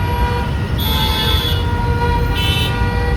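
Busy road traffic picked up on an earbud microphone: a loud, steady roar of engines under repeated car horn toots, with two clear horn blasts standing out.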